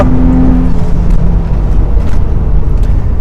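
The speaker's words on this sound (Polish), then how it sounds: "możemy słyszeć jak się turbo załącza, podwójne turbo" Audi S4 B5 with twin-turbo engine pulling hard past about 5,600 rpm, a loud dense roar filling the cabin with a brief whine early on, continuous and steady with no talk.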